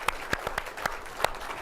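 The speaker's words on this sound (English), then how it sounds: "That deserves a round of applause." A few people at a tech conference session clap sparsely, with distinct scattered hand claps at an irregular rhythm over a quiet room.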